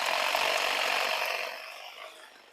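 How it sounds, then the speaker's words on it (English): A paint shaker machine rattles a spray paint can for engine bay painting, giving a loud steady mechanical buzzing shake that holds strong before tapering off near the end, with no talking. "I'm gonna put it in the Paint Shaker 4000 and get it shook up"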